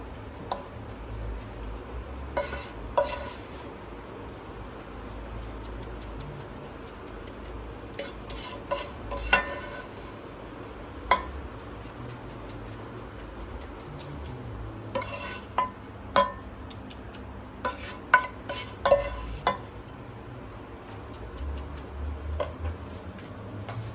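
Fried vermicelli goes into a pan and is stirred, heard as soft, quiet scraping with occasional sharp clinks of a utensil against the metal over a low background.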